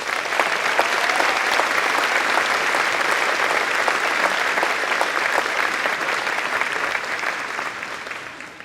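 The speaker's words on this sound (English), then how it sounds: "Please give them a round of applause." At a school Thanksgiving concert, the audience gives long, even applause for the faculty and staff. The clapping is dense and loud and holds steady before gently fading near the end.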